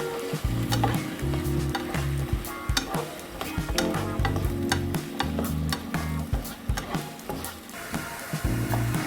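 Carrots and onions fry in olive oil in a pan, a close, steady sizzle broken by repeated scraping and clinking as they are stirred, with no talking.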